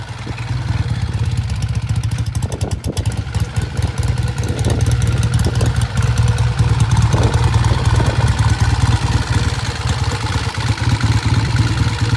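A freshly rebuilt vintage British motorcycle engine runs on a test ride, a loud close rapid thumping exhaust throbbing steadily throughout, with mechanical clatter and slight rises in revs, no voices.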